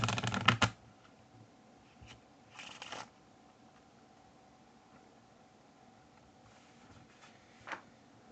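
A deck of playing cards being shuffled, a sharp riffle at the start followed by a few faint, brief card sounds spread across an otherwise quiet stretch.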